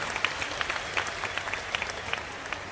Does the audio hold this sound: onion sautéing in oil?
no